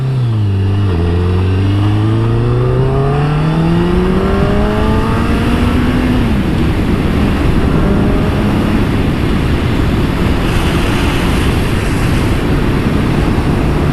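A carbureted Kawasaki ZZR1100 motorcycle engine revs and accelerates loudly, its pitch climbing through gear changes before settling into a steady roar with rushing wind.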